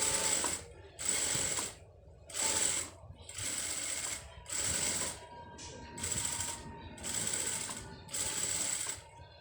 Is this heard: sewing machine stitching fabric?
yes